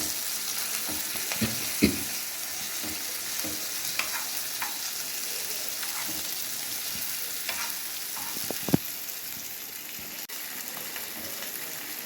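Rava-coated kallur fish frying on a hot tawa, a steady close hiss of sizzling oil with occasional sharp pops and crackles, no voices.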